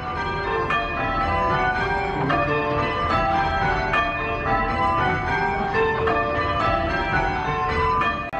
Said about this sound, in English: The bells strike about a second after the ringer pulls the rope